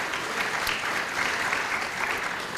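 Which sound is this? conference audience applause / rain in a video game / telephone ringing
conference audience applause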